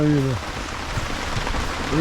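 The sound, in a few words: rain falling during storm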